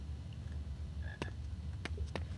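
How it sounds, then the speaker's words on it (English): A frog croaks a few times in the Harry Potter and the Philosopher's Stone PC game, short sharp calls spaced apart over a low ambient hum, moderately close and with no talk. "Where's that frog? I hear it."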